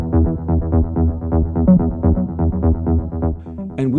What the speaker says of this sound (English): when you start tweaking your filter and you want to make it like really plucky and funky and nice, most filters sound like this